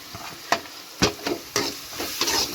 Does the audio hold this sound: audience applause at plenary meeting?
no